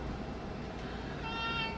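A cat meows over a steady rumbling background, the cry faint and drawn out against constant noise.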